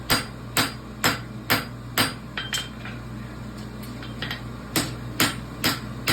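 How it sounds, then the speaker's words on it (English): Sharp, ringing hammer blows strike a sidebone horseshoe on an anvil, about a dozen spaced hits in loose rhythm with a brief pause midway, close and loud. "Let that material come to the hammer."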